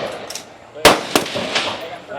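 Pistol shots at the firing line of a regional Elite Women shooting competition: two or three sharp, close cracks spaced about a third of a second apart, with talk in the background.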